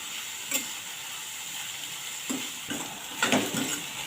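Chopped onion sautés in a pan for a methi malai matar dish with a steady, quiet sizzle, broken by a few soft scrapes and clinks as a spoon stirs it.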